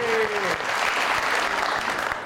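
A studio audience on the Pakistani TV talk show Taron Se Karen Batain claps steadily for about two seconds, a dense, even wash of applause with no talk over it.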